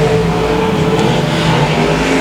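Limited modified race car at a speedway accelerating hard out of the final turn, a loud, steady engine roar that fills the whole moment with no talk.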